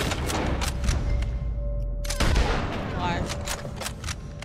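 A rifle shot rings out in the video game Red Dead Redemption 2, one sharp loud crack with a rolling echo, among other gunfire bursts and ambient game sounds.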